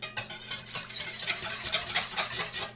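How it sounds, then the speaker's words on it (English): Water and dashi being whisked together in a bowl for okonomiyaki batter, a brisk, rhythmic swishing and tapping that runs continuously, close and fairly loud, with no voices. "now we whisk that all together"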